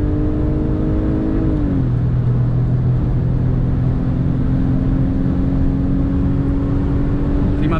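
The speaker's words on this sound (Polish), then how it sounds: "No auto zbiera się naprawdę bardzo fajnie. Już 200 km na godzinę." A 2005 Audi A4 3.2 FSI Quattro accelerating hard at around 200 km/h on a German motorway. A steady, loud engine drone and road roar with a gear change partway through, then a rising pitch.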